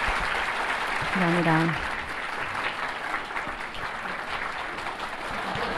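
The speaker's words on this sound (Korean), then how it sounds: "큰 박수 부탁드립니다" Audience applause at a Korean-American adoptee worship gathering, a steady broadband clatter filling the clip, with a brief spoken thanks and a short tonal sound near the start.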